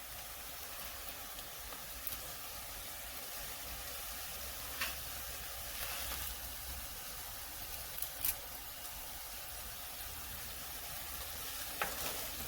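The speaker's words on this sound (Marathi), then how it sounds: "हे बघा हा माझ्या गार्डन मधला ताजा ताजा कडीपत्ता हा आपण असा टाकूयात" Fresh garden curry leaves frying with cumin in hot oil, a steady soft crackling sizzle throughout, with a few sharp pops and faint utensil taps, close and alone.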